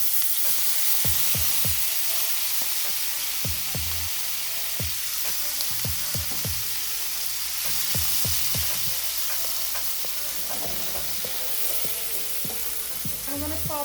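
Seasoning sautés in oil preheated over high heat for eggplant choka, a steady close sizzle and crackle with occasional clinks and scrapes of a stirring utensil throughout.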